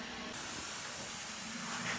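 Spray gun spraying red custom paint with the air pressure turned down, a steady soft hiss that starts abruptly and continues evenly, close and fairly quiet, no talking.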